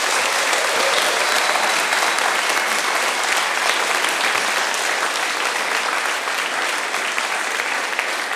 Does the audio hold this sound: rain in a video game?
no